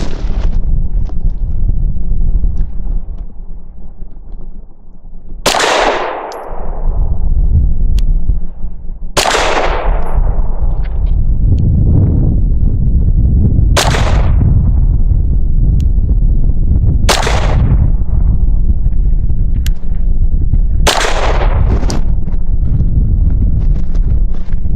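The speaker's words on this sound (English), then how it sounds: "So for my 5-shot group from 7 yards, I'm just going to use some Blazer Brass 115 grain ball" Five sharp, loud pistol shots from a CZ P10C compact firing Blazer Brass 115 grain ball ammunition at 7 yards, spaced a few seconds apart, each ringing briefly over a low background rumble outdoors.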